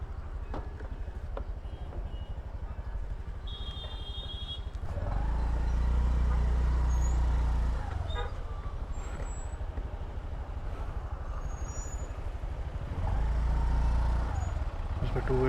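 Two-way motor traffic on a narrow, steep one-lane hill road in Mussoorie, with vehicles rumbling past close by in two louder surges over a steady engine drone and wind.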